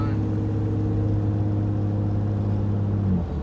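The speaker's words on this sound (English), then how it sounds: "now you can hear like a perfect mixture of the diff whine and the exhaust" A Ford Falcon under load drones steadily, its exhaust note blended with a sustained differential whine, loud and continuous from inside the car before easing slightly at the very end.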